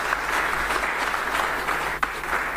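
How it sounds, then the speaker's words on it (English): Audience members at a public forum on monetization of minerals royalties give themselves a big round of applause, a steady wash of many hands clapping together, loud and continuous with a low room hum beneath. "Now I want you to give yourselves in here a big round of applause."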